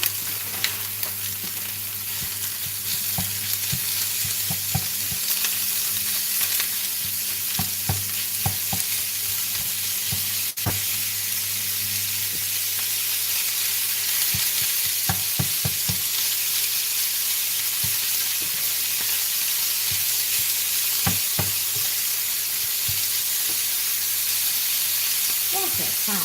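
Minced meat frying in a pan for a meat pie filling, a steady close sizzle with repeated scraping and stirring clatter throughout, no voices.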